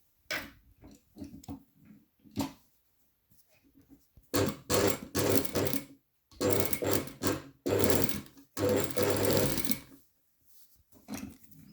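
A sewing machine stitches the second seam of a patch pocket in close, loud bursts of rapid mechanical ticking, several runs of stitching separated by short pauses, with quieter intermittent clicks before and after.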